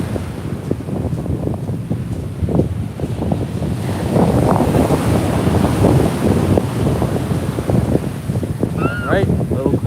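Ocean waves at Montara State Beach in California surge and wash ashore in a loud, continuous roar, heavily buffeted by wind on the microphone, with a faint voice near the end.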